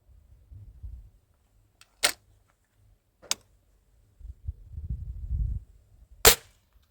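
An old pellet rifle fires three sharp, close snaps spaced a second or more apart, with soft handling rustles and low thumps between shots in an otherwise quiet setting.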